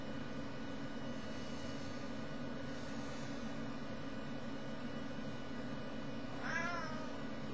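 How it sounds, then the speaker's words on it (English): A cat gives a single short meow near the end, close by, over a steady low background hum. "Yes, kitty cat."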